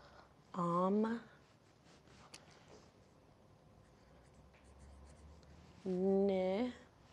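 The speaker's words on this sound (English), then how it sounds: "now I'm gonna write omnivore on it" The word omnivore is written out by hand, a faint, soft scratching between two short bursts of a voice, close and quiet.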